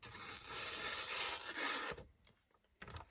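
A knife freshly sharpened on a 600 grit DMT edge slices through magazine paper with a close, hissing rasp lasting about two seconds, followed by quiet and a short final scrape.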